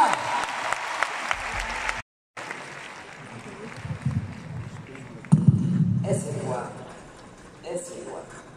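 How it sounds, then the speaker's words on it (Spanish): Audience applause at the Auditorio Nacional during a concert, clapping in the first two seconds, then a brief dropout, then crowd noise and someone speaking over the room. "Y me voy a los aplausos para mi hermano y mi amigo"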